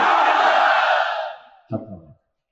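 A large crowd at an Islamic sermon gathering roars the Takbir battle cry in unison, a loud sustained shout that fades out, followed by a brief second burst of voices.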